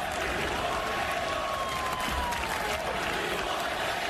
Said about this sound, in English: The chant is, "We want Caleb,"